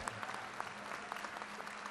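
A round of applause from an audience at a tribute event for a music act, steady scattered clapping from many hands, fairly distant and soft.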